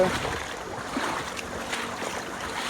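Water gushing over the overflowing Mokeshwar dam on the Saraswati river, a broad steady roar with wind buffeting the microphone, continuous and fairly loud, no clear talk.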